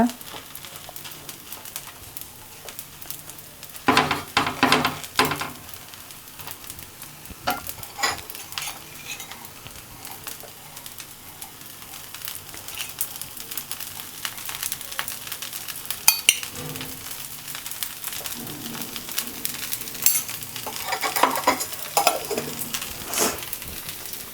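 Fish dosa cooks on a hot pan, sizzling softly with bursts of scraping and pressing from a spatula and occasional clinks of utensils, close by and intermittent.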